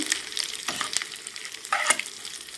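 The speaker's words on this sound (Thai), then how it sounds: "เอาไปคั่วคั่วคั่วคั่วให้เขาเหลืองๆ ก็โอเคใช้ได้ เพราะว่าถ้าทอดนานเกินอะ่ะ มันจะขม" Black squid fries over low heat in a pan, a close, steady crackling sizzle with a few louder pops and stirring scrapes, with no voices.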